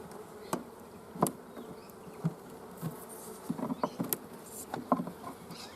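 Honey bees buzz around an open hive, a soft continuous drone with individual insects flying close past the microphone in brief louder passes, fairly quiet overall.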